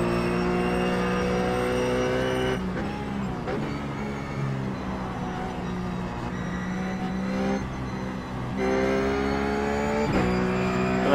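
A Ruf GT3 race car in iRacing laps Sonoma, its engine droning loud and steady with harmonic whine, rising and falling through revs and gear shifts, no voices over it.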